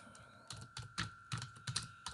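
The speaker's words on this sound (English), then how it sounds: "So I'm going to type" Quick bursts of keystrokes on a computer keyboard, close and fairly quiet, clicking in short irregular runs with brief pauses and no voice.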